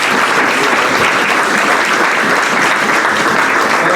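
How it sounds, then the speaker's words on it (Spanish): Steady, dense applause from a church congregation during a Sunday service, loud and sustained throughout with no voices standing out. "Regálele un aplauso."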